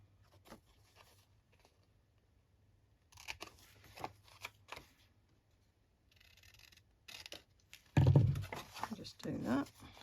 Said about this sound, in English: I'll cut this top down a tad as well.